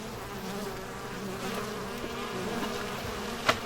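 Honeybees buzz at backyard beehives in a steady, close, continuous drone, with a single brief tap near the end and no talking.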